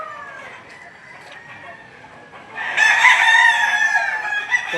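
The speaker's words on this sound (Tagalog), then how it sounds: "Para mga bossing, nakikita nyo yung mga manok dito." Chickens and roosters at a livestock auction market in Lipa, Batangas: faint background clucking gives way to a loud, close rooster crow that carries through the latter half over the barnyard murmur.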